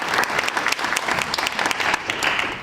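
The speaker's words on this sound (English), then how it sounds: "let's give him a round of applause for setting this up" Audience applause at a blockchain pitch competition event, a short burst of many hands clapping in a dense, fairly close patter with no talking.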